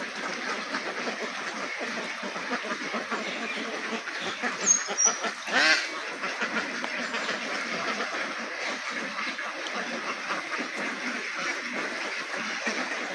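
A large flock of laying Jinding ducks on a muddy duck farm quacks continuously, a dense, steady chorus of many birds at moderate distance with a few louder calls standing out.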